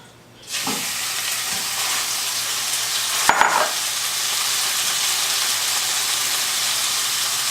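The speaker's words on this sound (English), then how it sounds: "I'm going to put the meat in the pan already" Ground meat hits a hot pan for tacos with potatoes, and a loud, steady sizzle starts abruptly and continues, with a brief clatter of stirring partway through and no talking.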